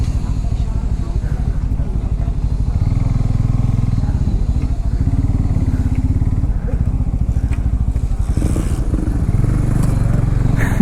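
A Bajaj motorcycle rides through a slushy monsoon road in Madhya Pradesh, its loud close engine thrumming steadily with throttle swells while mud and water clatter underneath and the rider talks over it.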